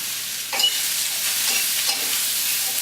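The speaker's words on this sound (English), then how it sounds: "Love the sound of the sizzling" Steady, loud sizzling of lamb meatballs and onions frying in a pan, with a few soft stirring scrapes breaking through the continuous hiss.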